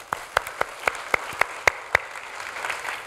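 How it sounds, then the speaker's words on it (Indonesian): Applause from a church congregation during a Sunday service, a short burst of about ten sharp, evenly spaced claps in a steady rhythm, close and fairly loud, trailing into softer murmuring. "Boleh tepuk tangan dong."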